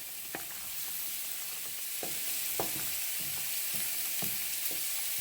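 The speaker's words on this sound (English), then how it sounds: "I've got my sauce back on. I'm going to give it a stir." Tikka masala sauce with tomatoes is stirred in a pan on the stove, giving a soft steady sizzle with a few light spoon scrapes and taps against the pan at irregular intervals.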